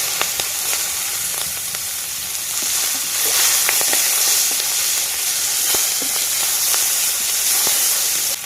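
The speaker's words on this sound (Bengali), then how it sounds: "কড়াইতে তেল আছে পাঁচ ফোড়ন দিয়ে দেবো" Chopped onion and garlic fry in oil in a wok with a loud, steady sizzling hiss, punctuated by scattered crackles and the occasional clack of stirring.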